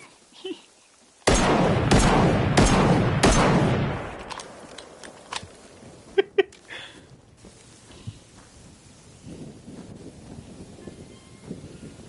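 Player gunfire in the Generation Zero video game: a quick run of loud, sharp shots near the start, then fading to scattered faint pops and windy ambience.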